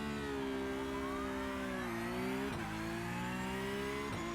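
Simulated race car in a sim racing game launching off the line with launch control: a loud, steady engine drone holds near the limiter, dips briefly, then pulls on, with a couple of gear-change blips and no talk over it.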